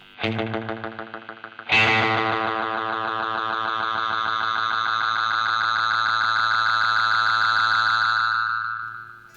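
Repeating echoes from a Behringer VD400 analog delay swell into a sustained, distorted self-oscillating tone that holds steady, then fades out at the end.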